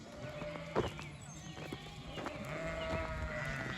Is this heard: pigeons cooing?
no